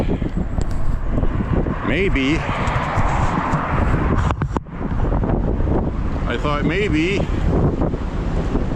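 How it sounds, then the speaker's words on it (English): Strong outdoor wind gusts roar across the microphone on a five-mile walk, a steady loud rush that swells and buffets throughout, with a voice speaking intermittently over it. "oh, I hear a big wind coming. There it is."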